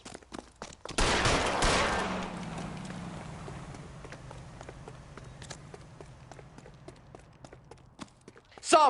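Gunfire in the video game L.A. Noire: a few sharp shots ring out, then a loud burst at about one second that slowly decays into a lingering rumble, with scattered faint cracks and another loud hit right at the end.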